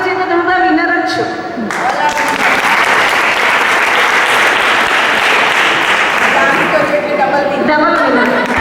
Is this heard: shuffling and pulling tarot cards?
no